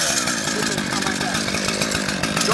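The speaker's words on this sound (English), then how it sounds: "First thing I'm going to do is start my saw." A chainsaw running on a peaked roof, a loud, close, continuous engine buzz at steady revving throughout, with a voice heard over it.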